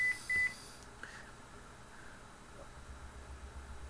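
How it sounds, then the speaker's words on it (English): A phone text-message notification gives two short, high electronic beeps right at the start, then fades to a faint, quiet hiss. "I've got a text message from Mike right now."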